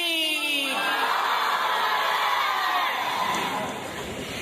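A large crowd roars back a loud, sustained shout in answer to the Naara-e-Takbeer slogan at a devotional naat gathering, filling the whole stretch before easing slightly at the end.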